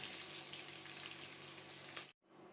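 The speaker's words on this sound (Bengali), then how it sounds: "পেঁয়াজ ভাজা হয়ে গিয়েছে" Steady, dense sizzle of onions frying in mustard oil with cardamom and cinnamon, close and continuous, cutting off abruptly near the end before faintly resuming.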